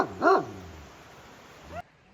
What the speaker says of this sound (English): Oh, so angry dog.